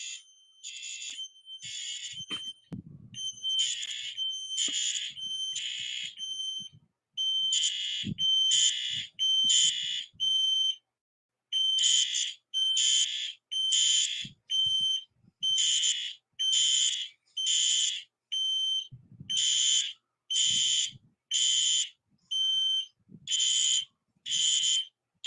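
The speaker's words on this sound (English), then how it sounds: "So I got two fire alarms hooked up." Two smoke-style fire alarms shriek in steady, rapid pulsed beeps, piercing and close, repeating in regular bursts with brief gaps for the whole stretch while faint thumps sit underneath.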